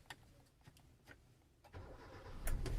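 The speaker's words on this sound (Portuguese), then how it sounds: "eu vou conseguir dar partida no veículo" A Hyundai Veloster with a manual gearbox stuck in gear, its engine cranking with faint clicks and then catching into a louder, rumbling start close by.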